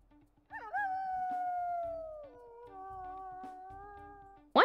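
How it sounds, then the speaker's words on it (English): A wolf howls in the video game WolfQuest: one long, clear, deep howl that slowly falls in pitch and then holds, heard alone and close, ending in a brief sharp burst. "we'll go ahead and listen to his howls"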